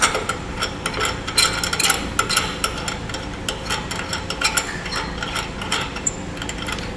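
A quick link on the safety cables of a trailer hitch setup for a 2016 Chevrolet Colorado is tightened, a close, continuous rapid metallic ratcheting clatter that runs throughout without speech.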